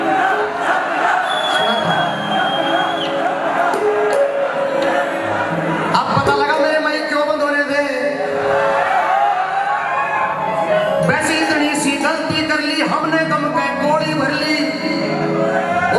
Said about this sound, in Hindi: भाई साहब के लिए ताली बजा दी